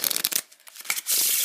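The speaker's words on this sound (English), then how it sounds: "So what I do is I perform the riffle shuffle like this" A deck of playing cards riffle shuffled up close: a burst of rapid fluttering card clicks, a brief lull of softer shuffling, then a sustained loud whirring riffle to the end, with no talking.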